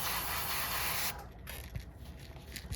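Airbrush spraying paint onto a jerkbait fishing lure: a close, steady hiss of spray runs for about a second, then cuts off, leaving soft handling noises and faint rustles.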